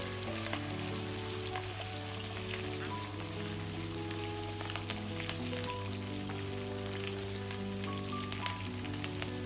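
Pirandai stem and roasted gram sautéing in a pan for a chutney, a steady close sizzle and crackle with scattered pops throughout, no talking.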